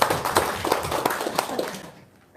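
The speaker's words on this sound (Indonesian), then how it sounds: "Tepuk tangan dulu dong untuk set." A burst of hand clapping from an audience, fairly dense at first and thinning out before fading away near the end.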